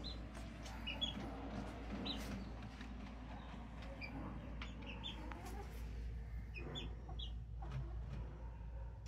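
A four-month-old McLean bullstag gamefowl clucks with short, scattered calls over a constant low hum, moderately close, with no speech.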